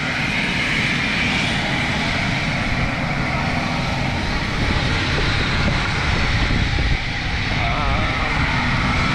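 The engines of an NGX airliner in a flight simulator game give off a steady, loud, broadband roar and rumble that holds constant throughout, with no clear talk over it.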